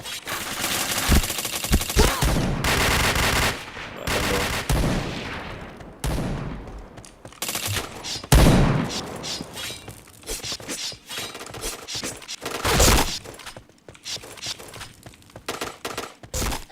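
Rapid gunfire bursts from a shooting video game, loud automatic volleys and single cracks alternating with short pauses and sharp impact sounds, dense and close throughout.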